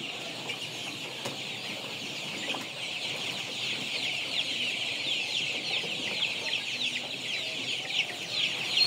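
Color broiler chickens raised for meat on a poultry farm, a dense continuous chorus of many birds clucking and chirping close by, with no talk.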